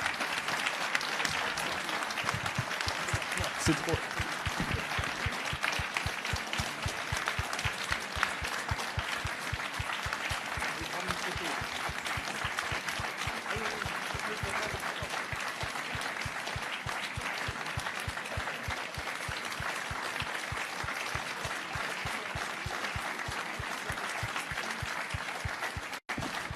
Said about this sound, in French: j'aurais juste qu'on applaudisse comme il se doit